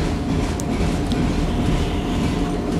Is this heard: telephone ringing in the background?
no